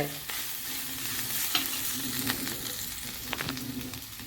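Chilies, onions, curry leaves, ginger and garlic fry in hot oil with turmeric and asafoetida, a close steady sizzle broken by a few scraping stirs of the spoon, with no talking.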